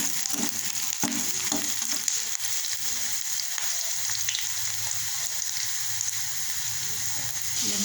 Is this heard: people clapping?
no